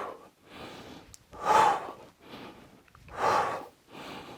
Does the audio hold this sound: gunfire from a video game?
no